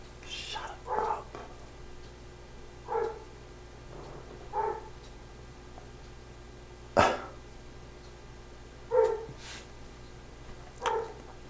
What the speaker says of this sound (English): we're also that dog barking